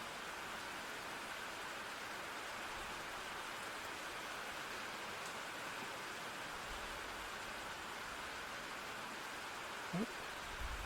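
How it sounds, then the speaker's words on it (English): Steady rainfall in the video game If Found is a constant, gentle wash of hiss with no break, with a brief soft thump near the end. "The rain do be peaceful, though."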